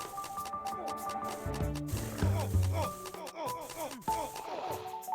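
Horse sounds in the Realm of the Mad God video game: clattering, clip-clop-like hits with tonal whinny-like sweeps, dense and busy within a layered game mix of effects and music.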